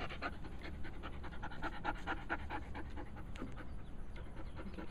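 A Doberman puppy, ears taped up and posted, pants steadily and rapidly at close range, a continuous rhythmic huffing with no talk over it.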